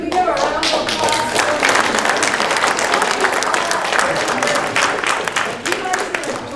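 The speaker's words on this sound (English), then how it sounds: "Can we give a round of applause?" A loud, close round of applause from the audience at an elementary school Gold Card event, with dense hand clapping and some crowd noise lasting throughout.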